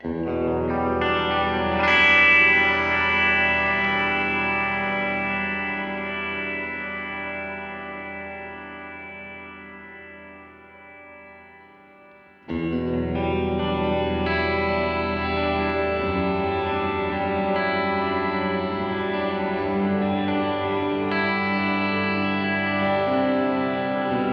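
An electric guitar plays sustained chords through a Line 6 Helix Searchlights reverb on factory settings, with long shimmering tails fading out before a second chord rings in and sustains.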